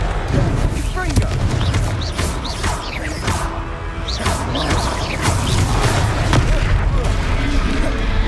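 A Confringo blast spell in a wizarding video game booms and crashes amid a dense, continuous wash of battle noise, with several sharp impacts scattered through the rumbling din.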